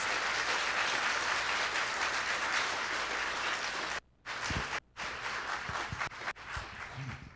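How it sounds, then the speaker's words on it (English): Audience applause for team members at a county drug court graduation ceremony, a steady wash of clapping from a crowd that breaks off twice briefly near the end before trailing into scattered claps and shuffling. "let's give all of these team members a round of applause"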